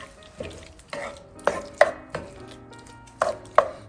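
Oxtail stew stirred in a Staub cast-iron pot, a series of distinct knocking, scraping strokes of a spoon against heavy metal, about six spaced hits over a faint background.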